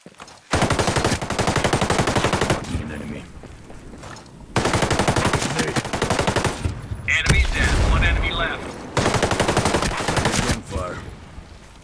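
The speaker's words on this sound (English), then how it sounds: "Dude, I'm telling you, this all is the biggest gun, the baddest gun." Giant machine gun in a Ghost Recon Breakpoint PvP match firing three long sustained bursts of rapid, loud, close shots separated by short pauses, with a heavy boom between bursts.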